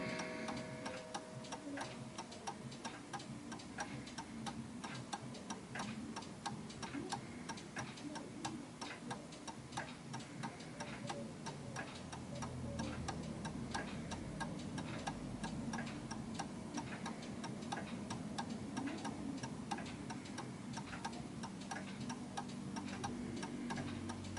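Several clocks tick together in a quiet room, among them an oak-cased 1930s eight-day striking mantel clock. The ticks overlap into a dense, steady, faint patter with no voices.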